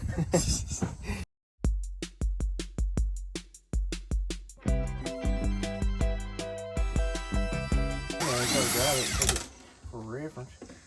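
A Milwaukee power drill in use on a beat-up boat under restoration: several quick on-off bursts, then a longer steady whine that rises in pitch, close and loud, with voices between the runs.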